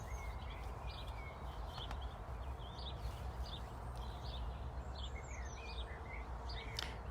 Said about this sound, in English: listening to the birds all around us